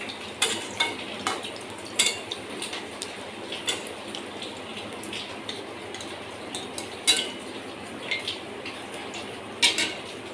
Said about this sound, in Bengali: এবারে আমি বাকি বড়াগুলোকেও ঠিক একই পদ্ধতিতে ভেজে নেব।